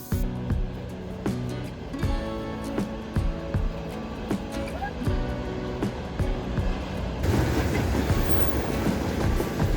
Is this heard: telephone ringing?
no